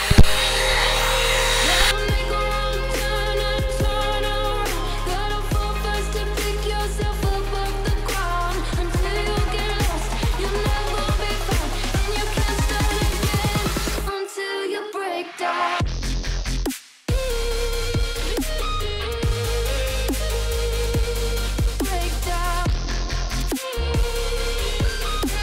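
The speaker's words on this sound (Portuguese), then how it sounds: "Então vou usar agora as duas partes juntas pra vocês verem." A hair dryer brush running with both parts together while styling hair gives a steady close blowing whir throughout, layered under loud music, with a couple of brief dropouts partway through.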